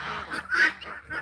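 Barnyard ducks near a magnolia tree give a short burst of honking, nasal quacks, close and loud, with several overlapping calls and no talk.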